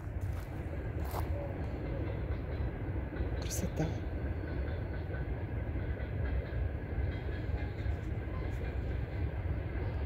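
A train rumbles steadily in the background, a continuous low roar with faint rattling, while a voice speaks briefly and quietly.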